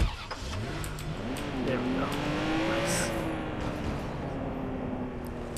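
A car engine revs and accelerates in Watch Dogs 2, its pitch climbing and settling as it drives steadily, with a person talking briefly over it.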